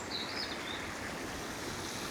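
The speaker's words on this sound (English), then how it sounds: "Plenty of water coming out the pipe." Water pours steadily out of a pipe outdoors, a continuous close rushing wash with a faint bird call early on.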